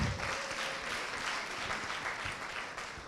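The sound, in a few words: audience applause for the finalist judges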